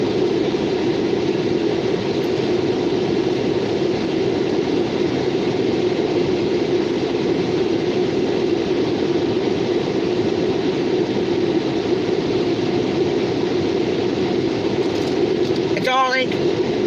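CSX and Norfolk Southern freight train rolling past in Beaver Falls, Pennsylvania, a steady, loud rumble of wagons and engine noise held throughout, with a brief sharp metallic squeal near the end.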